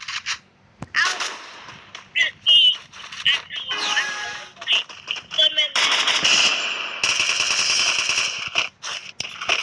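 Gunfire in the video game Free Fire, rapid bursts of shots and clattering impacts with game effects in between and people talking over them.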